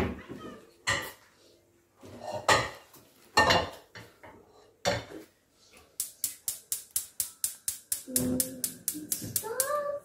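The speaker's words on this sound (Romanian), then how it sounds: "Și să ne căutăm o" Pots and pans clatter and clank close by as someone rummages for a saucepan in a kitchen, followed by a quick run of sharp regular clicks and a few voices.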